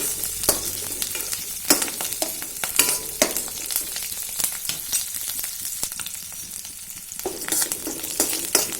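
Garlic, green chilies, dried red chilies and curry leaves fry in hot oil, with a steady close sizzle broken by repeated scraping stirs of a spoon against the pan, and nobody talking.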